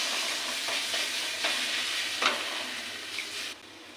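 Spice masala frying in oil with a spoonful of tomato sauce, a bright continuous sizzle with soft periodic stirring scrapes that suddenly drops quieter near the end, heard close with no speech.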